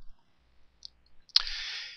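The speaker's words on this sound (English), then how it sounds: "we're going to click OK" A single crisp computer mouse click sounds in a quiet room, followed by a brief soft hiss that fades away, with faint small ticks just before it.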